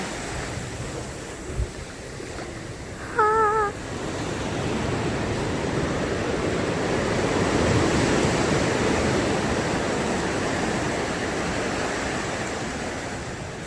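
Ocean waves crash and wash continuously onto Santa Monica beach near the pier, a broad steady roar of surf that swells toward the middle, with a brief whistling chirp early on.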